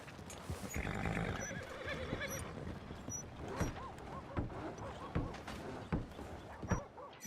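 In the video game Red Dead Redemption 2, a horse whinnies loudly, then hooves clop in a slow, uneven rhythm with occasional heavier thuds, fairly close.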